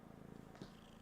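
A pet cat sitting on a lap purrs in a very faint, low continuous rumble, close and quiet, with a soft brief noise partway through.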